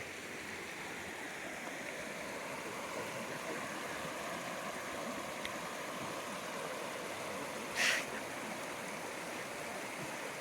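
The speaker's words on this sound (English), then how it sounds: "But look how clear that water is. Wow, that's amazing. What a awesome river." A clear river rushes steadily beneath a bridge on a mountain trail, a constant close wash of flowing water with one brief splash near the end.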